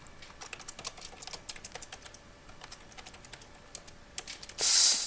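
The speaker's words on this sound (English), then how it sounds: "I don't know what I was typing there." Rapid clicking keystrokes on a computer keyboard, irregular bursts of taps close by, ending with a brief loud noise burst.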